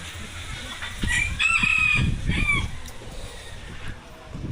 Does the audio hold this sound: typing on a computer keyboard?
no